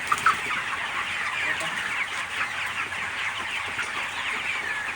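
A dense flock of broiler chicks at a poultry farm in Pakistan clucks and cheeps continuously, a busy, close chorus with no clear talking.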